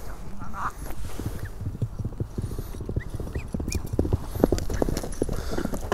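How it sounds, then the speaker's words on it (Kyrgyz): Horse running on reins without a whip, its hooves beating a fast, steady clip-clop close by over constant outdoor background noise, with faint voices now and then. "Көрүп жатасыздар, камчысыз тизгин менен чуркап жатат."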